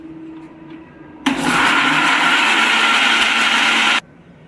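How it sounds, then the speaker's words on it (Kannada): A kitchen mixer grinder whirs loudly for about three seconds as it blends fish curry masala with turmeric powder, starting abruptly and cutting off sharply, with quiet room sound before and after. "ಇವಾಗ ಇದನ್ನು ನೀಟಾಗಿ ಮಿಕ್ಸಿ ಮಾಡ್ಕೊಳ್ಳೋಣ"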